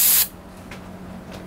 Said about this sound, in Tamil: இது வந்து பார்த்தீங்கன்னா ரிப்பன் ஸ்ப்ரே.